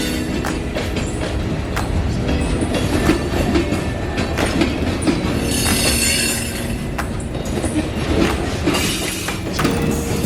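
A train rolls steadily past on an active railroad track, its wheels clacking and metal squealing in a dense, continuous rumble that stays loud and close throughout.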